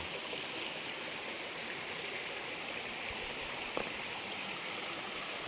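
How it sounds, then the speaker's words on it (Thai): A forest stream in humid rainforest along the trail to Huay To waterfall gives a steady, even rush of flowing water, continuous and unbroken, with one faint click partway through. "ไปน้ำตก"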